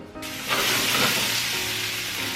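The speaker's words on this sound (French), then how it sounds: "Dans la poêle bien chaude, je mets un filet d'huile d'olive" Olive oil and tuna sizzle in a hot frying pan, a sharp hiss that swells as food hits the oil and then settles into a steady close crackle.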